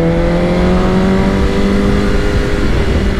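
A BMW S1000RR 1000 cc motorcycle accelerates hard on a road, its engine note a loud, sustained, steadily rising whine close by with no talking.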